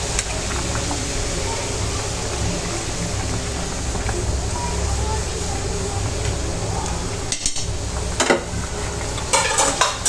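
Vegetables get stirred in a cooking pan with a steady sizzle, a utensil scraping and clinking against the pan throughout, under occasional talk.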